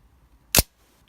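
Single crisp mechanical snap of a Nikon F camera shutter firing, a short sharp click standing alone in an otherwise quiet room.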